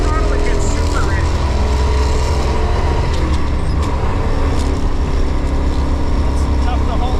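A 1966 Ford Galaxie with fuel injection and a six-speed, its engine roaring loud and steady at full throttle while pulling hard at speed, the dense drone continuous throughout with a voice talking over it.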